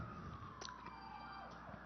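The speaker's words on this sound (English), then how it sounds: "There's the sirens in the background." Sirens wail faintly in the background, a thin rising and falling emergency tone drifting under low ambient noise.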